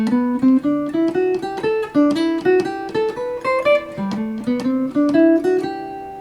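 A jazz guitar strums short chord stabs in a steady, even rhythm over a ii-V-I progression, close and clear, the chords shifting as it goes.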